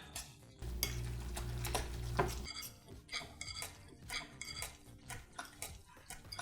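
A spoon scrapes and clinks against a bowl while a dip is stirred, with a steady rhythmic scraping and occasional sharper taps, close up and fairly quiet.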